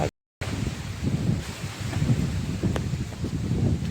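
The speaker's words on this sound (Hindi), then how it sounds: "मैं आया और हवा भी होने लग गई है" Wind blowing through a village with light rain starting, a steady rough gusting rush that swells and dips, close to the microphone, after a brief dropout at the start, with no talking.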